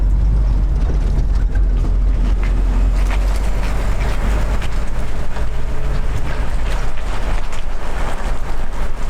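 A 1967 Ford Mustang S-Code, freshly restored, drives under load with a steady loud engine rumble and heavy low-end road and wind noise throughout, no voices.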